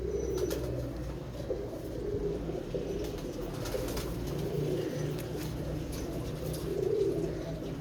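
A captured pigeon coos repeatedly in low, soft rounds close by, with faint rustling that may be wing flapping beneath a steady background.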